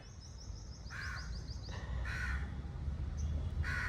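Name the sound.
crows cawing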